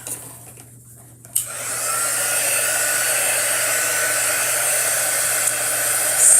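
A hair dryer switches on with a click after near silence and then blows steadily and loudly to dry a chalk drawing, a constant close whoosh with no talking.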